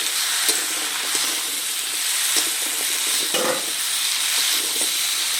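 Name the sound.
frying shrimp with pumpkin and potatoes in a pan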